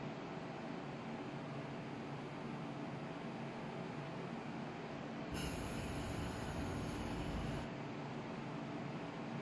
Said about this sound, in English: A 12 car train to Hong Kong is arriving.